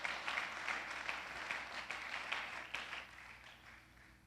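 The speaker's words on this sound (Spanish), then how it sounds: "denle un fuerte aplauso al Señor si usted cree esta palabra" A church congregation applauding the Lord during a Spanish-language sermon, a broad wash of clapping that fades gradually over a few seconds, moderately distant.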